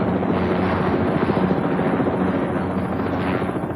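A helicopter flies with a steady, loud rotor and engine roar that holds evenly from start to finish, with no voices.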